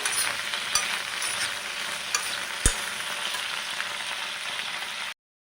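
Okra pieces fry steadily in hot coconut oil, a dense bright sizzle that runs without a break, with a few soft stirring clicks and one sharper knock partway through, then it cuts out abruptly.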